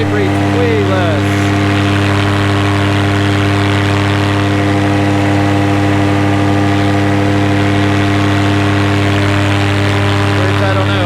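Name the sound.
Vittorazi Moster 185 MY-20 paramotor engine running in flight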